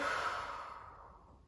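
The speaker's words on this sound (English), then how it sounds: "Taking a couple deep breaths here" A slow, deep breath taken during a prenatal pilates session, with a soft airy exhale that fades gradually over a second and a half, close and quiet, with no talking.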